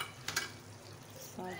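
Large chillies fry in a pan with stuffed tinda, a quiet steady sizzle punctuated by a couple of brief utensil clicks and a short tonal squeak at the end.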